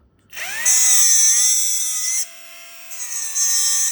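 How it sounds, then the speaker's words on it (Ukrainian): A loud, steady high-pitched whine of an angle grinder biting into metal, running continuously with a brief dip midway before surging again. "Болгарка"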